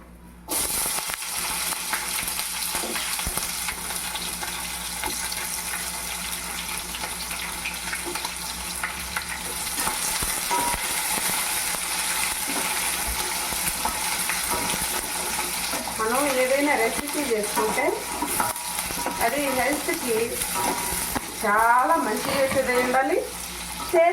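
Red onions added after curry leaves to hot oil in a pan, frying with a steady, broad sizzle and occasional stirring, with a voice talking over it toward the end.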